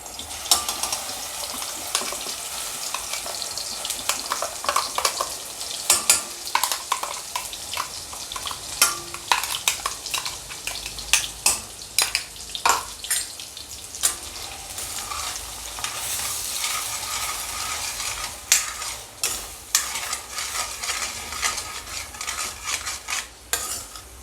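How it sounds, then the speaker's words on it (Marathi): Spice masala fries in hot oil with bay leaf, giving a continuous sizzle. A utensil stirs and scrapes the pan in frequent sharp clinks and knocks, close up, and no one talks. "गरम झालं आहे आपलं तेल आता यात टाकून देऊ आपला जो मसाला केला होता आपण तो"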